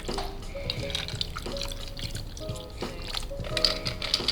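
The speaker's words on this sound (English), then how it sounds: "Take your strainer, go straight in." A vodka lime cocktail is poured through a strainer into an ice-filled rocks glass, with intermittent trickling and dripping of liquid over ice beneath background music.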